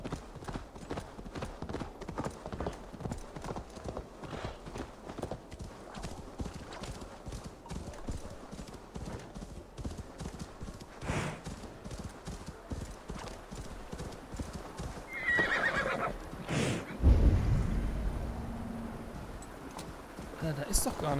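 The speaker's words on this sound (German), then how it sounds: "Wie schnell das Pferd da war" A horse galloping in Assassin's Creed Valhalla, rapid steady hoofbeats throughout with a neigh toward the end, and someone talking over parts of it.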